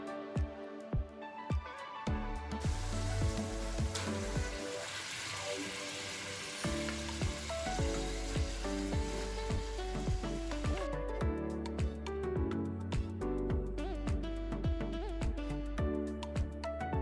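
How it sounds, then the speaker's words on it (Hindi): Bottle gourd and meat curry fries in hot cooking oil with a loud, dense crackling sizzle, and repeated sharp knocks and scrapes of stirring run throughout. "कुकिंग ऑयल डाल के अब हम करेंगे इसकी अच्छी से बुनाई।"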